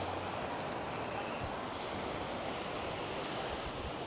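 Steady broadband surf washes onto the beach at Playa La Garita in Arrieta, Lanzarote, a continuous roar of waves with some wind rumble and no voices.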